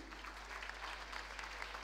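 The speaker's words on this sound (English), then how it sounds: "a big round of applause" Applause from a school audience at a Founder's Day assembly as the senior house captain is welcomed, a steady wash of many hands clapping throughout, moderately faint and even.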